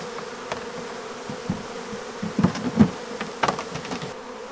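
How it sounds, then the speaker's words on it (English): Bees buzz steadily around a hive, a dense droning hum with a few louder passes close by. "A lot of bees."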